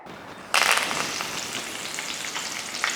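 Peanuts fry in hot oil with a bright, dense sizzle that bursts in suddenly and then holds steady, close and without voices.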